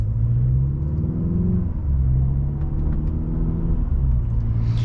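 A 2023 Mercedes CLA 250 drives along with a steady engine drone that rises, drops at a gear change partway through, then climbs again under constant road rumble, with no talking.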